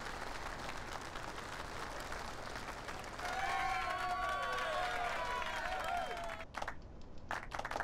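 Audience applause sound object from the LittleBigPlanet 2 Muppets level kit: a steady wash of crowd clapping that swells louder midway, with a faint game tone under it, then cuts off abruptly.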